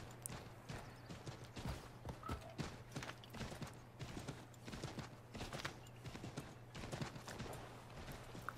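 Horse hooves clip-clopping at a gallop in Assassin's Creed 3, a steady rapid rhythm of close hoofbeats over a constant low game hum, with a faint whinny-like sound.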